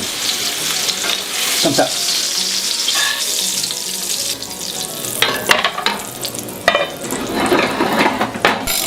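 Fennel frying in a pan, a loud close sizzle with stirring scrapes and clinks of a utensil against the pan, brief words spoken partway through.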